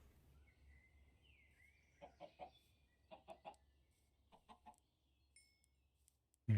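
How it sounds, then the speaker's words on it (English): Minecraft chickens cluck in short bursts of two or three, soft and fairly close against a quiet game background, ending in a sudden loud thump. "Let's go check on the chickens."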